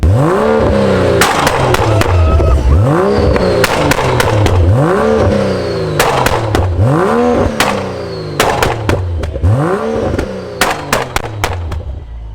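An N55 turbocharged car engine revs up and falls back again and again in a steady cycle, each rise followed by loud, sharp exhaust pops and crackles like gunshots, close and loud with no talk.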